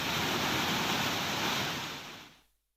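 Floodwater from Naini Lake pours across a road in Nainital during heavy rain, a loud, steady broadband rush of water that holds for about two seconds and then cuts off abruptly.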